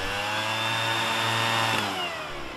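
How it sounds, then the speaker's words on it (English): A leaf blower gives a loud, continuous motorized whine that holds steady for a couple of seconds, then tapers slightly as the engine drops off. "Leaf blower."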